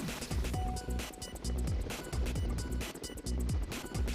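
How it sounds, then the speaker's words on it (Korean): A firefighting helicopter on standby, described elsewhere as a Russian-made Kamov, slowly starts its engine, producing a rhythmic, pulsing whump of turning blades with a churning mechanical roar, fairly close and steady. "출동 준비를 마친 헬기가 서서히 시동을 건다."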